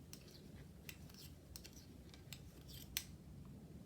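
Scissors snip through yarn in a few quiet, sharp clicks spaced irregularly over a low background hush, close to the listener.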